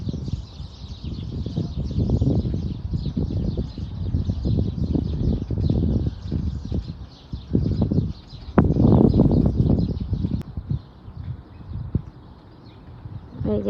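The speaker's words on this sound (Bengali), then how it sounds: "পাখির কিচিরমিচির শোনা যেতেছে।" Small birds chirp faintly and continuously among the trees of a park, partly masked by louder nearby rustling and footstep-like thuds.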